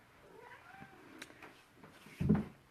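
A pet cat meows indoors during a makeup routine, a few soft, drawn-out calls followed by one louder meow near the end, close by and without talk.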